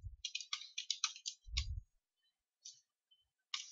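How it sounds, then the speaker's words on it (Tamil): Quiet clicking of keys on a computer keyboard while typing an address into Tally ERP 9 accounting software, quick bursts of taps separated by short pauses, close and isolated in a silent room. "அவருடைய அட்ரஸ் எல்லாம் நீங்க டைப் பண்ணிக்கோங்க"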